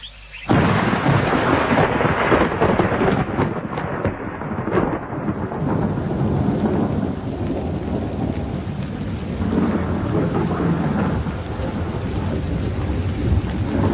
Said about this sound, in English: It'll rain forever and ever.